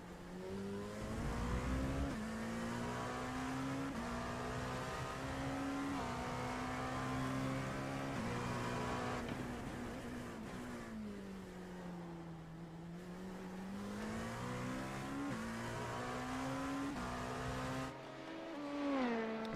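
An onboard race car engine in a video game endurance race at Spa-Francorchamps drones steadily, pitch rising and falling as it revs through gears, smooth and continuous with no voices.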